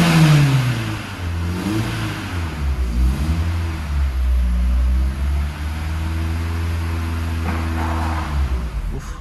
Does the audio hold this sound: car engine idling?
yes